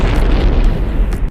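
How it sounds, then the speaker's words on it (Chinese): A Molotov cocktail bursting in an animation, heard as a loud sustained explosive roar with crackling debris that fills the whole moment and cuts off abruptly at the end. "燃烧瓶就在这时瞬间爆炸。"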